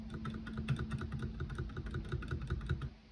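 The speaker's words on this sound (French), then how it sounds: "Hop, la touche espace." A Corsair K60 RGB Pro keyboard's space bar is pressed repeatedly in a quick, steady rhythm of soft, muted clicks, close up and fairly quiet under a low background hum.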